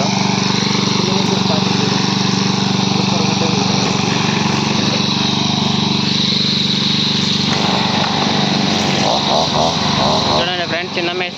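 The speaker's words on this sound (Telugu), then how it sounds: "కటింగ్ చేసే విధానం అయితే చూడండి ఎంత నీట్గా కట్ అవుతా ఉన్నదో" A small motorized cutting machine prunes unwanted shoots in a mango orchard, its engine droning loudly and steadily close by, with a shift in pitch near the end as it bites into growth.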